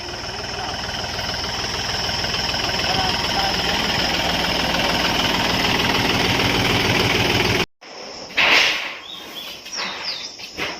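A diesel tractor engine running on a farm field during soybean sowing preparation, loud and steady with a rhythmic knocking chug for most of the clip, then cutting off abruptly before faint voices and scattered background noise.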